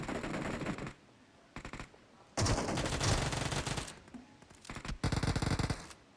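Automatic gunfire rattles through a PUBG Mobile firefight in several loud, close bursts separated by short quieter gaps.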